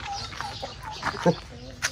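Turkeys gobble and cluck at moderate distance amid busy background noise and indistinct voices, with a couple of sharper calls standing out.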